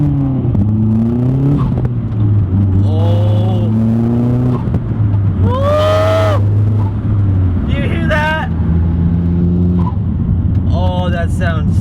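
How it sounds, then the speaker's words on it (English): A turbocharged Mazdaspeed3 engine revs and accelerates loudly, pitch sweeping upward through gear changes, with a turbo whoosh from a new turbo inlet hose and voices underneath. "I heard the turbo, and it sounds a lot different."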